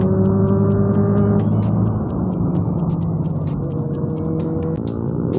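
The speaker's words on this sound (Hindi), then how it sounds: "अब मैं बेनेली के पीछे चुपचाप गाड़ी लगा लेता हूँ और मैं इसकी आवाज़ सुनता हूँ।" A Benelli superbike's engine hums ahead of a following 160cc motorcycle on the road, steady tonal drone with shifting pitch, ticking clicks and wind rush throughout.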